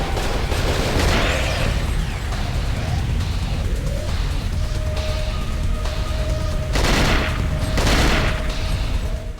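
Sustained gunfire and heavy booms from the survival horror game Cold Fear, dense and loud throughout, with bursts of shots layered over a constant rumbling background and no voices.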